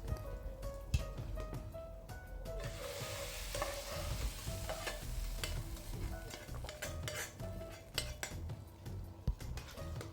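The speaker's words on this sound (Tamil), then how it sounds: "எல்லாத்தையும் சேர்த்து நல்லா கிளறி விடுங்க." Quail curry with tempered mustard seeds and cumin is stirred in a pot: a steady sizzle close by with scraping and clinks of a metal spoon against the pan.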